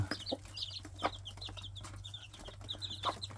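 A mother hen clucks in short repeated bursts while feeding chicks fruit peels and banana, with soft chick peeps scattered through and a steady low hum beneath.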